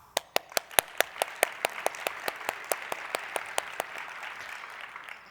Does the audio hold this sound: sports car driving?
no